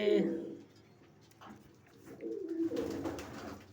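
Pigeons kept by Punjabi pigeon fanciers coo in low, rolling calls, with a soft burst at the start and a louder run of cooing near the end; a voice may be faintly mixed in.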